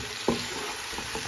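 Pieces of beef paya sizzle as they are sautéed in a pot with spices, a steady frying hiss broken by a brief scrape of stirring near the start and a couple of softer stirs later.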